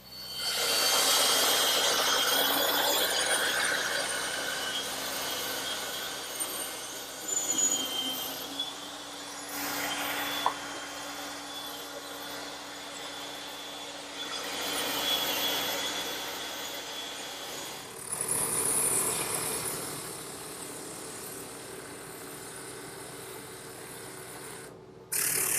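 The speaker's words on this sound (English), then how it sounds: "now it's back to the bandsaw and the drum sander." A bandsaw and drum sander shape wooden rocking horse parts in a workshop, giving a long steady whir with rasping, grinding passages that swell and ease, and a brief break in the noise near the end.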